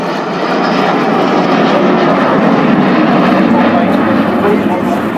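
An Avro Vulcan XH558 delta-wing bomber roars past at an airshow in Waddington, a loud, sustained broadband jet rumble and howl that fills the air continuously without a break.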